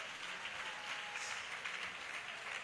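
Applause from a church congregation during a worship session, a steady dense wash of many hands clapping at moderate volume throughout, with no voices over it.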